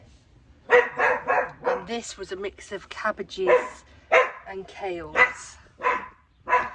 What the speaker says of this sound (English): Sorry about the dog, my dog's going mad.